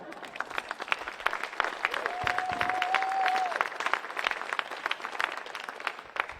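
Audience applause at a welcome reception, a lively spread of individual claps from a modest crowd that builds and thins, with a brief whistle-like tone rising in the middle of the clapping.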